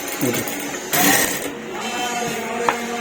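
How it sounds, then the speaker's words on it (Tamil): A sewing machine stitches lace onto a blouse neckline, its quick mechanical whirring running in short bursts close by while someone talks over it. "இது அழகாக இப்படி கொண்டாந்து அப்படியே தைச்சிருங்க"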